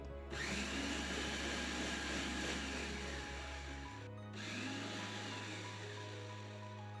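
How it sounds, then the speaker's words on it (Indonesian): A motorized blender whirs steadily blending dates with water, briefly cuts out, then starts again at a slightly different pitch, with no talking. "Blender hingga lembut."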